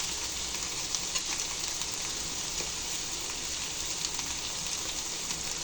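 Onions with red chilli flakes and red chilli powder sautéing in a pan for a Spanish omelette, giving a steady, close, broadband sizzle with soft crackles throughout and no talking.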